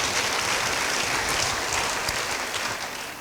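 A church congregation applauds during a sermon, a dense, even wash of clapping from many hands that holds steady throughout and fades slightly toward the end.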